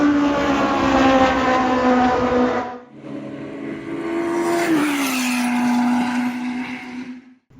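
A Formula BMW race car at the Sandown Revival motorsport festival in Australia, its engine roaring loudly and steadily in a high, sustained note that drops briefly, then rises again as it passes and recedes.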